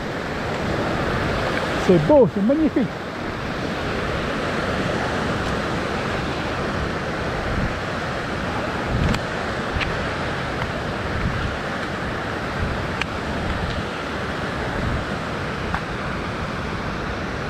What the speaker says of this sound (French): Ah ouais, là c'est de la cascade.